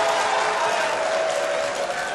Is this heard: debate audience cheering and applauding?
yes